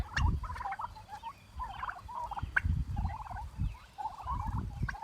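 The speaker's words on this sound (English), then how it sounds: "There's your 27 turkeys." A flock of 27 turkeys gobbles in overlapping, warbling calls, nearby and fairly loud, with low shuffling and rumbling noise underneath.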